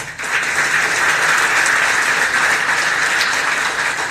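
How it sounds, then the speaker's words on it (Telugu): An audience at a Srimad Bhagavatam religious discourse breaks into loud, dense applause that holds steady for about four seconds. "చప్పట్లు బాగా బాధండి"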